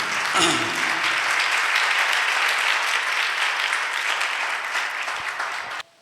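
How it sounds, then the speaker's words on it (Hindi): A church congregation at a sermon bursts into loud, sustained applause, a thick continuous clapping that swells briefly at the start, holds steady and then ends suddenly. "तालियां जरूर बनती हैं"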